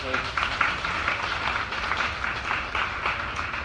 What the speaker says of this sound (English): can we give the panelists a round of applause?